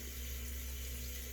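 A kitchen sink tap running cold water in mid-August in the south, a faint, steady, even rush with no voices.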